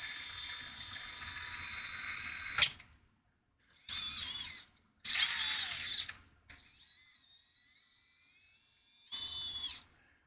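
A Wizard RC crawler driven at full throttle gives off loud, whining gear noise in several short bursts separated by silences, with a faint high mechanical whine between bursts.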